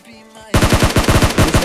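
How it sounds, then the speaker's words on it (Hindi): Rapid bursts of M249 light machine gun fire in PUBG start abruptly after a quiet moment, loud and close, with about a dozen evenly spaced shots in quick rhythm. "मुझे पीछे से साउंड आ रही थी कुछ गन की"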